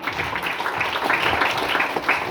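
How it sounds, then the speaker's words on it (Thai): A group applauds a Thai national women's sepak takraw player, giving a short, dense burst of clapping that stays steady and fairly close throughout. "ขอเสียงปรบมือพี่คำเลยครับ"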